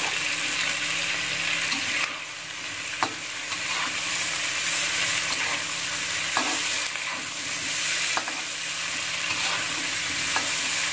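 Chicken sizzles steadily in a hot pan while a utensil scrapes and stirs, with a few clinks against the pan.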